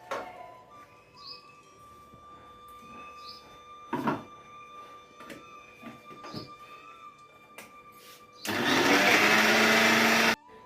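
A kitchen mixer grinder whirs loudly for about two seconds near the end, after quiet clinks and soft bird chirps in the background.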